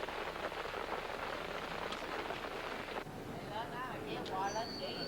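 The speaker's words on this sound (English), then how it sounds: "There's only the sound of the rain, the swash of ponchos" Steady rain patters continuously on ponchos in the Vietnam jungle, with some faint chirping sounds rising in the background toward the end.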